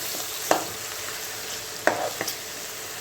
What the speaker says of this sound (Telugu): అల్లం వెల్లుల్లి పేస్ట్ కూడా ఇందులో వేగిందనుకోండి పచ్చివాసన రాదు